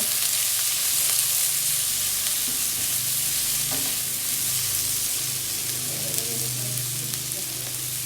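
Spice paste stir-frying in hot oil for a Thai-style stir-fried meat dish, a steady loud sizzle with broadband hiss throughout and occasional scraping stirs, close up, with no talking.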